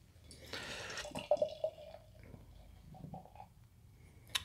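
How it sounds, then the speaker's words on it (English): Other Half Double Medusa Daydream beer glugs and trickles as it pours into a glass, a soft liquid flow with light bubbling and a few small splashes, faint and close with no talking. "Yeah, so it's pouring out like your typical Other Half beer for sure."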